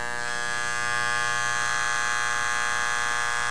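A 1992 Wahl electric hair clipper with its power screw turned too far gives a loud, steady high-pitched buzzing rattle with a strong whine, continuous and close throughout.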